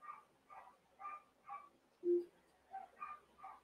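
A dog heard at some distance, giving a run of short, evenly spaced barks broken by one lower, longer whimpering yelp, fairly faint and with no talk over it.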